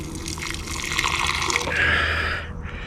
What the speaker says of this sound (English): So now I'm going to pour this off.